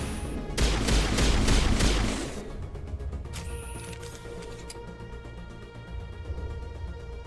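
Pistol fire in Mass Effect combat, a rapid burst of loud shots in the first couple of seconds, then a softer ringing, humming game ambience with scattered lighter pops.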